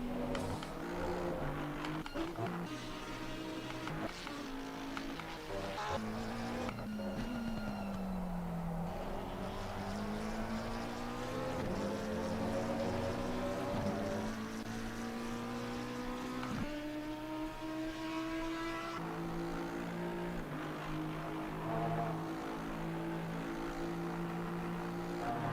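Race car engines in a sim racing esports event at Kyalami, McLaren 720S GT cars among them, rising and falling through gears as they pass, loud and continuous with layered overlapping engines.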